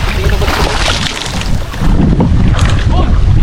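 Strong wind buffets the microphone in loud, rough gusts, with open water in the background.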